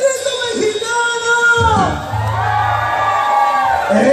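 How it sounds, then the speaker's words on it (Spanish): Live concert crowd at a cumbia show giving the Mexican grito, a loud sustained mass of whoops and shouts filling the space, with a chant-like vocal rising over a busy, roaring background. "quiero escuchar fuerte, fuerte, fuerte. ¡El grito mexicano!"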